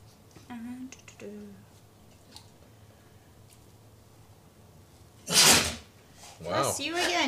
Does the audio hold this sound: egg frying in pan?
no